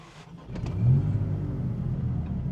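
A 2025 Maserati MC20 Cielo engine is started by push button, catching and swelling into a revving roar before settling into a steady, moderately loud idle rumble.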